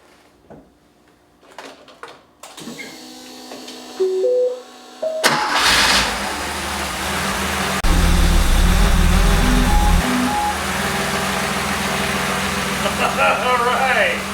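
A 1974 Porsche 911 engine cranks and catches after a few quiet clicks and clunks, then roars up and settles into a loud, steady idle. The engine sound is close and runs for the rest of the clip, with a brief rev partway through.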